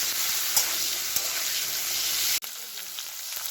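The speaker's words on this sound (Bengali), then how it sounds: "এই যে আলুগুলো একটু ছাঁকা করে ভেজে নিচ্ছি।" Potato pieces deep-frying in hot oil in a pan crackle with a dense, continuous sizzle close by, broken by one brief dip near the end.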